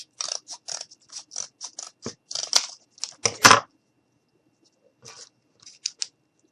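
Scissors cut a small piece of cardboard for a handmade Valentine's gnome craft, giving a quick run of crisp, close snips followed by a pause and a few final cuts.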